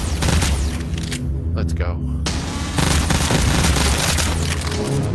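Rapid gunfire from the VR shooter Pistol Whip on 2089 hard mode, loud booming shots packed densely over a steady music bed, with a brief spoken line near the start.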